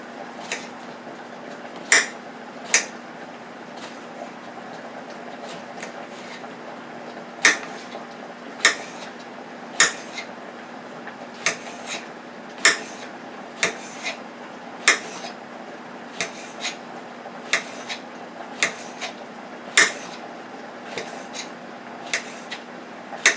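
A knife cuts a cucumber into thin slices, each stroke a crisp tap on the board, in an irregular but steady series of about twenty sharp clicks over a faint background hum.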